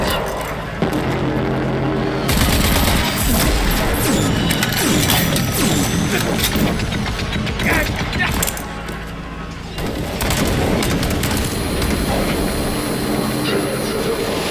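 Loud, dense turret gunfire and mechanical clatter in the PC video game Rage 2, a sustained barrage that runs almost the whole time with only a brief dip in intensity partway through.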